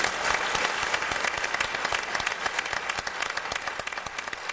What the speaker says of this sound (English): And now let's have a round of applause for our candidates.